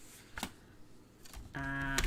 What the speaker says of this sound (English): Let's pop the trimmer out. And I need to cut this.